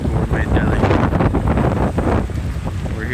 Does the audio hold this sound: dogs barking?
no